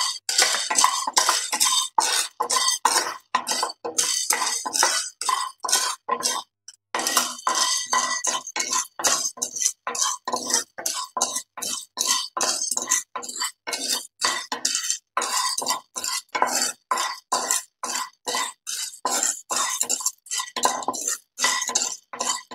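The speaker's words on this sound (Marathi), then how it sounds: "आता पहा इथे मिरही भाजून झाली आहे" Black pepper roasting in a pan is stirred with a metal spoon, giving a fast, steady run of scraping and clinking strokes, loud and close, continuing without pause for a long stretch.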